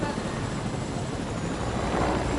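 Helicopter rotor and engine drone from a video game, a steady broadband whir lasting the whole stretch at moderate loudness, with no voices over it.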